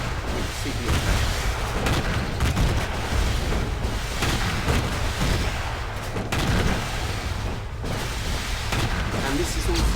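Ship weapons and missile turrets fire steadily in the space game Stellar Tactics, giving a dense, continuous barrage of booms and blasts that runs loud throughout.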